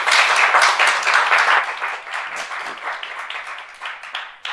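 Small hockey crowd claps and cheers at an ice rink, a dense burst of applause that fades gradually over a few seconds.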